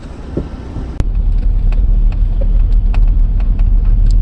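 A car driven slowly across an open field gives a steady low engine rumble with wind buffeting the microphone, plus a single sharp knock near the start.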